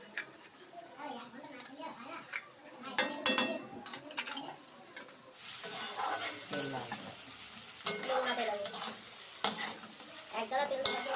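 Meat frying in oil in a pan at home is stirred with a utensil, giving sizzling and repeated scraping and clinking against the pan while people talk over the cooking.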